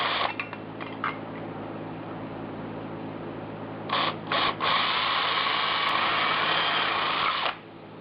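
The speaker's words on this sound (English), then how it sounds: "Once again, some self-tapping screws to secure it." Self-tapping screws are driven into an HVAC bracket with a power driver during a Vintage Air Gen II Compac install in a 1976 Mazda RX-5 Cosmo. A short whirring burst comes first, then a longer steady run of about three seconds, close and clear.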